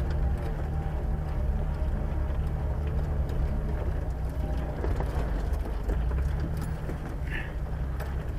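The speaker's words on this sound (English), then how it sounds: "transmission's a little bit whiny in rear," Off-road vehicle idling and creeping in reverse, a steady loud drivetrain drone with a faint transmission whine running continuously throughout, no voices.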